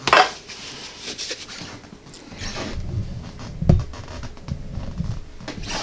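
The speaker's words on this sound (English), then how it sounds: "let me cut up my Spam" A knife cuts up Spam on a hard surface, giving a series of close scraping strokes and dull taps with an irregular rhythm. One louder clack stands out midway, and there is no talking.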